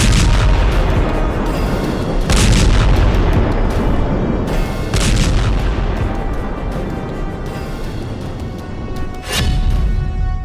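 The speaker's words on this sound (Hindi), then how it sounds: "गजा पर सैकड़ों किलो का बम जब गिरता है तो ऐसा धमाका होता है" Heavy bomb blasts striking Gaza, heard as a loud continuous rumble broken by several sharp, booming bursts spaced a few seconds apart, with no voices.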